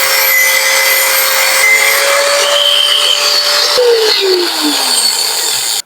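An angle grinder cuts a bolt on a Sniper 155 motorcycle, giving a loud, steady high whine that holds its pitch and then winds down as the disc slows before cutting off abruptly.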